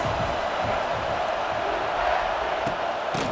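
A roaring stadium crowd in EA Sports College Football 26 keeps up a dense, continuous wall of cheering and yelling behind a football play, loud throughout with a couple of sharp sounds near the end.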